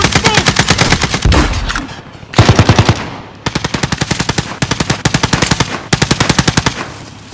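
Loud, close automatic gunfire from the video game Call of Duty: Modern Warfare comes in rapid rattling bursts, several in a row separated by brief pauses.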